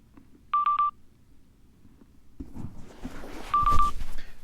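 A Harley-Davidson Boom Box GTX motorcycle audio system sounds its phone-pairing tones: a quick run of three or four electronic beeps, then a quieter stretch, then a longer beep over handling and rustling noise.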